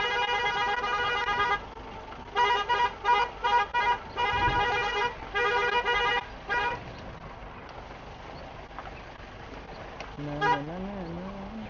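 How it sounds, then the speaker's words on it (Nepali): Two NS motorcycles arrive on a road near Dhorpatan, with a run of loud, rhythmic horn blasts up close, then an engine revving up and down near the end. "दुईटा एनएस आएको छ"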